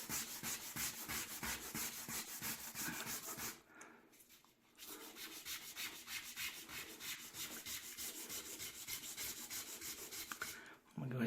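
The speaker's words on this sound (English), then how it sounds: "Just gonna keep on sanding that" Hand sanding of a resin finish: continuous rhythmic scratchy rubbing strokes, close and steady, with a short pause partway through before the scraping resumes.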